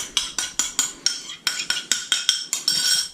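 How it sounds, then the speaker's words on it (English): Utensil scraping and clinking in a pan of cacio e pepe pasta being stirred, a quick run of about a dozen evenly spaced metallic strokes, close and clear with no talk. "And stir to combine."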